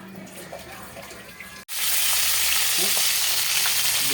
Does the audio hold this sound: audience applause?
no